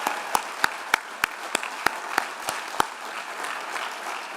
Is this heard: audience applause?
yes